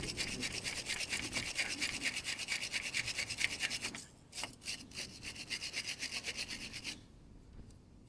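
A wire brush scrubs grease and dirt off starter motor terminals in quick, rhythmic back-and-forth strokes, close and fairly quiet, pausing briefly midway before resuming and then stopping.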